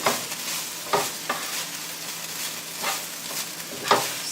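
Spicy chicken fried rice sizzles in a pan while a utensil stirs it, with several distinct scraping strokes over a steady frying hiss, close up and without voices.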